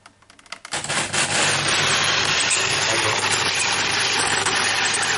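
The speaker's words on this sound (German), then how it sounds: "da funkt ja ordentlich und der Motor kann ja nicht drehen" A Jura F50 coffee machine's grinder motor, jammed and unable to turn, starts after a brief rattle and holds a constant, loud drone, buzzing with a strained, continuous hum.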